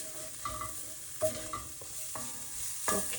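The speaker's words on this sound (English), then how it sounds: "That's cooking a little bit along with the chili paste." Garlic, Chinese five spice and chili paste fry in a pan while being kept moving, giving a quiet continuous sizzle punctuated by several sharp utensil scrapes and clinks, with no talking.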